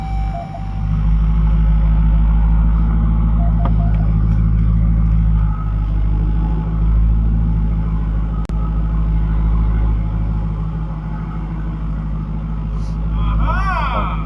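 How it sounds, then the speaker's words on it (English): A car engine and loud exhaust drone and rumble steadily as a valet drives and parks the car, heard from inside the cabin with a voice talking over the engine. "You'll hear the exhaust get loud."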